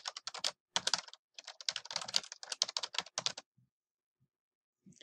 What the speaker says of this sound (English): type your name and then press the Enter key